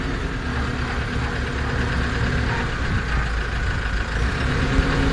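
A tractor engine idles steadily close by, a continuous low rumble holding an even level throughout with no voices.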